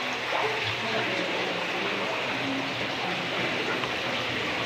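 Steady rushing water from a spring at the burial site of Fray Diego de Herrera, a continuous broadband wash with no pauses, fairly close and loud, with no one talking.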